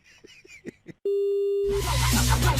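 A telephone busy signal plays during a phone call: a steady electronic tone cuts in after brief talk, then loud broadband noise follows.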